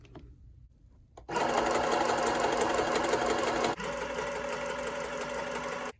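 Sewing machine backstitching to lock the stitches on fabric mask ties, a steady motor hum and needle chatter that briefly pauses and shifts pitch as it reverses, then keeps running, close and alone.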